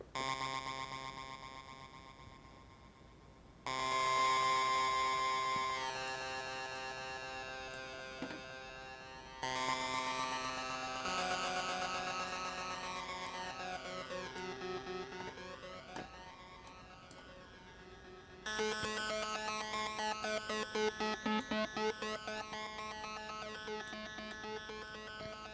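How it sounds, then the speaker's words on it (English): Sustained tones from a Haken Continuum synthesizer with heavy echo, the pitches shifting in stepped changes while the echo is swept, producing rising and falling shimmering bands; no talking. "of course we can actually turn up our echo now"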